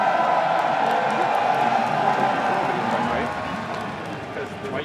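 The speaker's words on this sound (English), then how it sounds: "There's the crowd, and then there's the stage." An esports crowd at MSI 2018 roars and cheers in a broad, sustained wash of noise that eases slightly toward the end, with a commentator's voice running over it.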